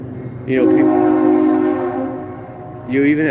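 A train horn blows loud and sustained for about two seconds as the train passes, a steady harmonic blast that sags and then swells again over low rail rumble, with no talking over it.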